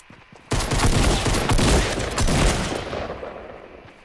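Rapid bursts of gunfire in the video game Fortnite erupt suddenly after a short pause, a loud dense fusillade of shots that gradually tapers and fades over the following seconds.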